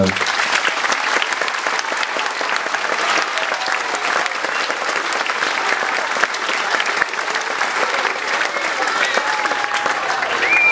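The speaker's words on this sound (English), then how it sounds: "that in itself deserves a Kewford round of applause" A large audience breaks into sustained, dense applause at the grand opening of the Kewford club's new football facility. The clapping stays loud and steady throughout, with a few scattered crowd voices mixed in.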